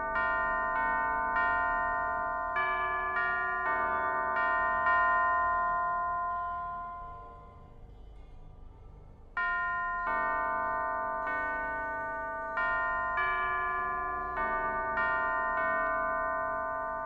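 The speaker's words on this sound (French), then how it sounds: "Elle ne s'ouvrira que si on joue la bonne mélodie avec les cloches" Bells ring out a melody of clear, sustained pitched tones, played to open a locked door in the video game Alice: Madness Returns. The notes come in two phrases separated by a short fading pause.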